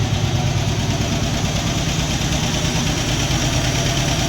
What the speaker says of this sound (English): that sucker just idle and just let that oil recirculate and heat up